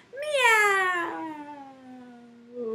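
A singer imitates a cat's meow in a children's animal song, one long, clear, drawn-out meow sung alone and close.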